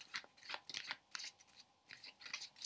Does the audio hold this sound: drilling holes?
no